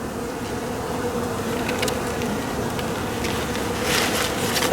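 Bees buzz steadily around a beehive during a November inspection of a dead-out hive, a continuous close droning hum that grows slightly louder near the end.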